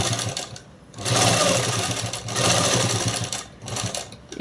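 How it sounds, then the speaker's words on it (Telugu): A sewing machine runs in bursts stitching a French cut dress, its steady mechanical whir loud and close with brief pauses between runs. "ఇప్పుడు ఇక్కడ అనేది కుట్టు అనేది వేసేద్దాము."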